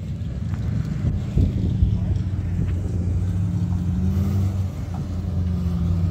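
A 1968 Pontiac Firebird with a stick shift idles with a steady, loud low-pitched engine drone and rumble throughout, with faint wind noise and no clear speech.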